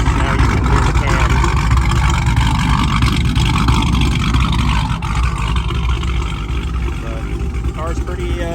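A cammed, wrapped Hellcat-powered wagon making over 1,000 horsepower idles with a loud, lumpy, rumbling engine note that runs steadily throughout, with someone talking over it.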